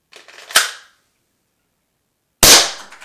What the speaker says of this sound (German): der letzte Schuss ist raus und der Schlitten bleibt hinten